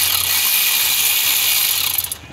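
Ratchet wrench working on a bracket bolt while removing the power steering pump from a 2004 Chevy 2500 HD 6.0, a dense steady clicking of the pawl for about two seconds, close and loud, tapering off at the end.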